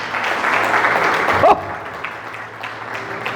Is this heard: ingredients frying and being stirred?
no